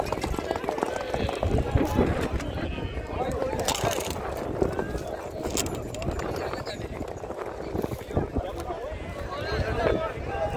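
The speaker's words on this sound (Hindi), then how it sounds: "देखिए 2 घोड़े की अच्छी टक्कर" Two horses gallop in a round race at Vekriya Rann, Rajasthan, their hooves pounding in a continuous rapid rumble amid loud crowd noise and talk.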